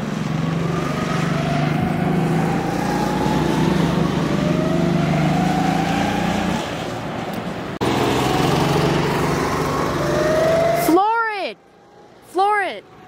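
Go-kart engines at a go-kart track, a buzzing small-engine drone that rises and falls as karts accelerate and pass, cutting off near the end, where a voice speaks.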